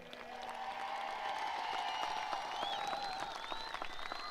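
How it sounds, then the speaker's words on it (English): Applause from the crowd at a class of 2023 graduation ceremony, soft and distant, a continuous wash of clapping with faint tonal sounds mixed in. "Give them one more round of applause."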